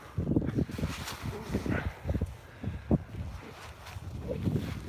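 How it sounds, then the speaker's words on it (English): Gusty wind buffets the microphone in uneven low rumbling bursts, rising and falling with no voices. "Bit windy there, guys, but bear with me."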